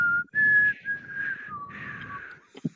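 A person whistles a short, wavering tune, several sustained notes broken by brief pauses, close and clear over a low murmur, ending in a few soft clicks.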